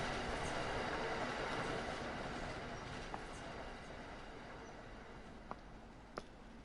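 A train in the video game Train Sim World rolls along with a continuous broad rumble that slowly fades, broken by a few faint sharp clicks from the track.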